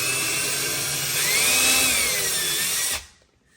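A power drill bores into a kitchen cabinet door with a steady, loud whine whose pitch rises slightly midway, then cuts off sharply near the end, leaving near silence.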